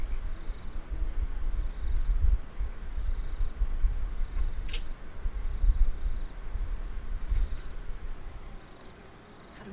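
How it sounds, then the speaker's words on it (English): Crickets chirp outside beside an old tower, a steady, thin, continuous trill at moderate distance over a low, rumbling background hum. "You hear the crickets outside."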